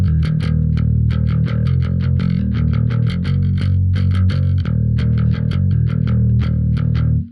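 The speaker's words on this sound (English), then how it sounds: "So with the palm muting, it sounds like this." Palm-muted metal picking on a heavily distorted electric guitar, a fast steady chug of tight, percussive chopped notes played continuously and loud throughout with no talking.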